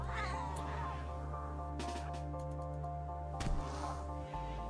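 A cat in the video game Rimworld yowls and caterwauls over a steady droning game music bed, with a few brief sharp effects and a quick impact near the end.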